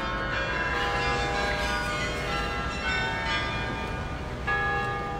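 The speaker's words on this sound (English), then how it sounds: "They even run the bells for me." Church bells ring steadily in Groningen, Netherlands, a dense sustained peal of overlapping tones heard outdoors without talk.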